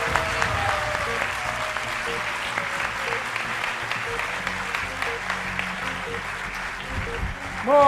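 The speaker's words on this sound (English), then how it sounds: "I think that deserves a bigger round of applause and a cheer." A large audience at a Gita Jayanti celebration at Bhaktivedanta Manor applauds steadily, with the sustained roll of clapping filling the whole stretch, faint voices mixed in and a few cheers rising near the end.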